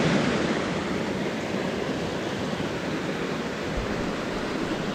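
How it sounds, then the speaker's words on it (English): Steady broadband wind rush fills the air near a mountain stream in autumn aspen country around Breckenridge, a constant, fairly loud roar with no distinct gusts or voices. "Hey, you hear the wind?"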